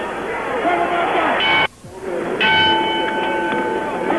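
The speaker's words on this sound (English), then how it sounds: "The bells for round 7." Boxing bell clangs at the start of round 7 of the 1973 Muhammad Ali vs Ken Norton fight at the San Diego Sports Arena, ringing out twice with a sustained metallic tone over loud crowd noise and a commentator's voice.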